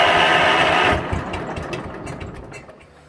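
A Huxley Little David stump grinder's small engine roars loudly and steadily for about a second, then drops to a lower, uneven running rumble that fades away.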